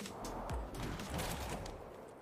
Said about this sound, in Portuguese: estou tá ouvindo tiro